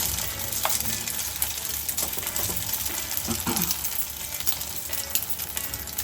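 Chicken omelette egg mixture sizzles steadily in a hot pan, a continuous bright frying hiss with faint clicks and scrapes, no voices.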